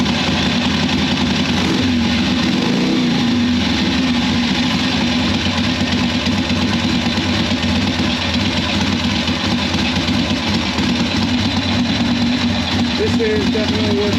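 A 1981 Harley-Davidson Sportster with a swapped generator idles loud and close, a steady continuous engine rumble that holds even throughout, with no voices.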